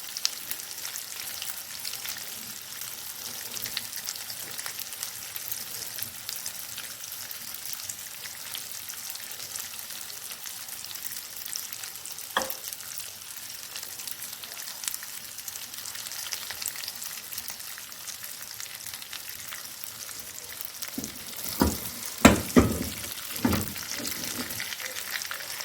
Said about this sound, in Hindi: तो फिर मैं तब तक इसे सिर्फ फ्राई करूँगी इन कोफ्तों को।